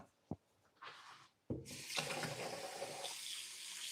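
Water is added to wash sugar from the edges of a pot of boiling candy for fudge or toffee. A sharp knock and a brief splash come first, then a loud, steady rushing hiss of water continues.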